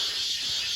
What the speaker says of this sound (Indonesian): Ini suara tonggeret